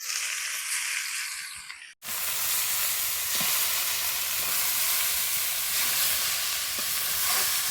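Greens are tipped into hot oil with dried chili and chopped garlic, setting off a sudden loud sizzle that settles into a steady, close, hissing fry with faint stirring.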